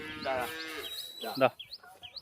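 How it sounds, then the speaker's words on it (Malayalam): A Jersey cow moos twice in quick succession, a drawn-out low call followed by a shorter one, with chirping birds faintly in the background. "ഇതാ ഈ പശുക്കള് രണ്ട് ജേഴ്സി പശുക്കളും ഇതാ ഒരു കുട്ടിയും"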